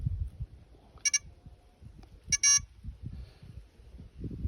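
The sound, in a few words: Ziplevel beeping when hold reading locks in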